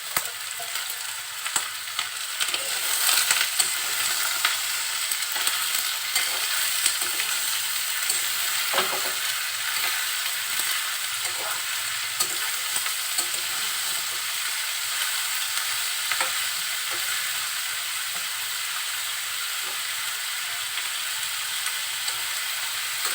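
Sliced potatoes and pointed gourd fry with salt and turmeric in a pan, a continuous close sizzle with intermittent scraping and clinking as the vegetables are stirred, no talk.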